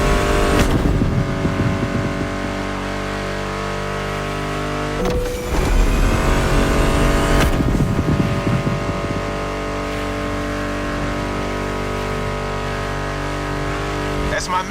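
American muscle car engines revving in The Crew Motorfest, a loud, steady engine roar blended with a continuous music track, with two brief surges in intensity.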